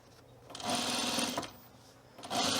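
A sewing machine stitches hemp fabric for a split tool belt. It runs in two loud, steady bursts with a short pause between them, and no talk is heard.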